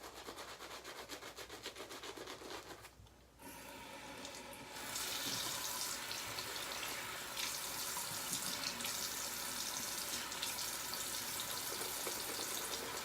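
A water tap runs into a sink to wet a large shaving brush, starting as a light patter, pausing briefly, then becoming a fuller, steady close-up stream with some rubbing.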